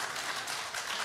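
Debate audience applauding briefly, a faint, even wash of clapping that seems to come from across a hall.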